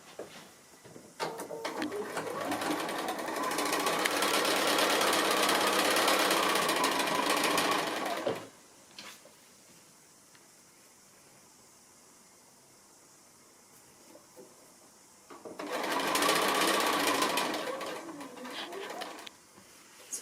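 A sewing machine stitches quilt block patches in two steady, whirring runs, close and even, separated by a quiet pause.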